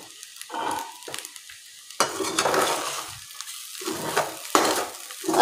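Sabudana khichdi fries over low heat while a spoon scrapes and stirs it around the pan. The stirring comes in steady sweeps over a continuous soft sizzle.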